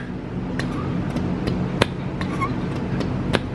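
Gritty, sticking recirculation valve on an S2000 being worked by hand, with faint scraping and several sharp clicks and taps over a steady low background hum.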